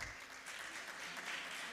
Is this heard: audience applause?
yes